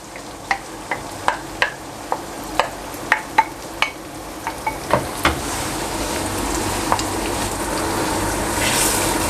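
Whisked yogurt is stirred into chicken karahi over high heat: a steady oily sizzle with a series of sharp spoon taps against the pan early on, the frying hiss swelling louder and fuller toward the end.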